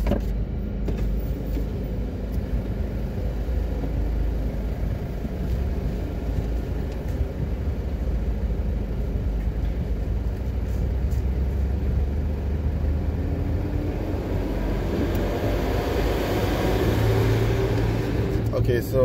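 Interior road noise of an SUV cruising through the Bog Walk Gorge in Jamaica, a steady low hum of engine and tires that grows slightly louder toward the end, with people talking over it.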